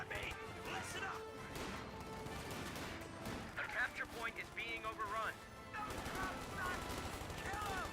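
MG-34 machine gun fire in the Company of Heroes 2 video game, rapid bursts and crashes mixed with other battle noise under continuous commentary.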